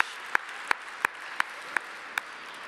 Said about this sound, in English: So I want to give you all a round of applause again